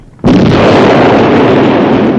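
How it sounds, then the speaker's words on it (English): A loud blast set off with a plunger erupts suddenly after brief quiet, then a broad, sustained roar rumbles on without fading. "Explosion! No doubt about it."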